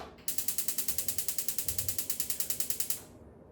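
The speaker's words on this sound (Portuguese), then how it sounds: "Vou ligar o forno." A kitchen oven knob being turned to switch the oven on, giving a fast, even run of about twenty-five crisp ratcheting clicks over roughly three seconds, close and clear, with no talking.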